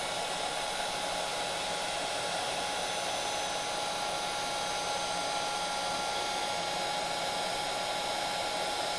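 A heat tool blows a steady, even hiss while melting white embossing powder for a layered paper tag, holding at a moderate level throughout with no break and no talking.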